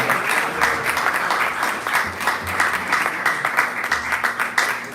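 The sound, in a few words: audience applause after speech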